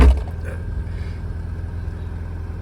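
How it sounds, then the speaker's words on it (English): An Alfa Romeo 115 Spider Veloce S4 idles close by, its exhaust putting out a steady, throbbing low rumble after a brief louder blip at the start, with no talking. "So let's let that go a little bit. Yeah, you can hear that exhaust note."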